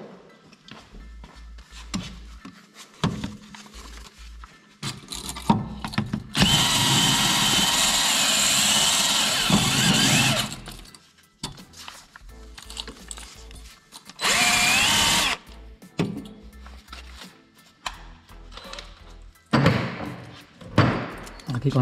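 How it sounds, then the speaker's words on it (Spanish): A power drill with a wire brush cleaning a thread whirs loudly in two long bursts, on a Nissan S14a, with shorter starts around them and someone talking quietly between runs. "con un cepillito de alambre o el taladro."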